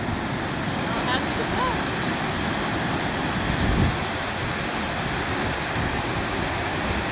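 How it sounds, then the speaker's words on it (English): Ebor Falls, a waterfall in New South Wales, pours with a steady, dense rushing hiss that stays continuous and fairly close, with no voices over it. "It's a pretty cool waterfall."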